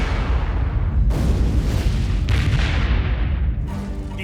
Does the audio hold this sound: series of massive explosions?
yes